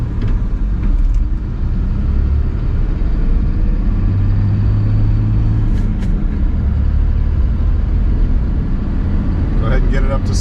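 A Dodge Ram pickup in 4-wheel drive with overdrive off accelerates up to speed, its engine and road rumble loud and steady throughout from inside the cab.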